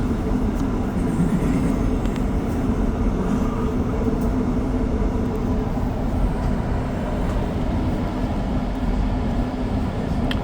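A REM light metro train rides an elevated line between stations, a steady loud rumble and rolling hum from inside the car, continuous throughout with no talk.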